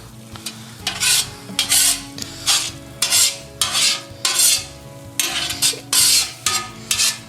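A spoon scrapes chili around the bottom of a steam jacketed kettle in regular rhythmic strokes, roughly a dozen close, loud swishing passes with brief pauses between them.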